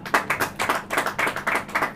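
A church congregation claps in a steady, even rhythm, roughly four beats a second, the many hands blending into a loud, continuous pattering with no voices over it.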